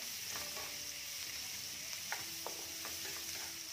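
Onions sautéing in a pan for masala macaroni give a steady soft sizzle with a few light scraping stirs, fairly quiet and close, with no voices.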